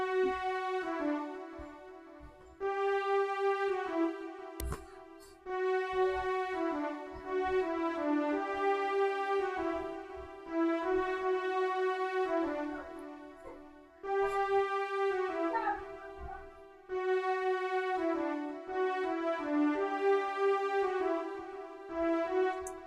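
A simple orchestral-style melody from a stock software instrument plugin, sustained string-like notes in repeating phrases, each held then fading before the next begins.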